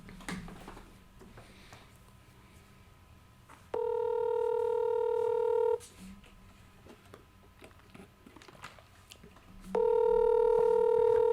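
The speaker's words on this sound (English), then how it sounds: "We're trying to call Caleb back right now" Two long electronic ringback tones sound on a phone call that goes unanswered, each lasting about two seconds with a pause of faint room noise between them.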